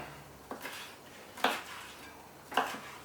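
Aubergine being chopped with a knife on a board in a home kitchen for baked spiral pasta: three separate sharp chops about a second apart, close and moderately loud, with no talking.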